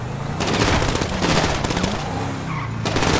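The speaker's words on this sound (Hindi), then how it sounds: "गाड़ी के ऊपर ही कितनी गोलियां मार रहे हैं।" Heavy automatic gunfire rakes a car in a GTA 5 zombie apocalypse, loud rapid bursts in two long volleys with a short pause between, close and dominant.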